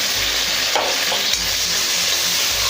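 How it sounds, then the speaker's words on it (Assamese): Onion, ginger and garlic fry in a pan, a loud, constant sizzle broken by a few scraping stirs, with no talking. "এতিয়া মই এইখিনি অকনমান ভাজিব লাগিব।"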